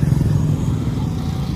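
Small motor scooter engine passing on a coastal highway in Surigao, Mindanao, a steady low drone sustained throughout at moderate distance, with no talk over it.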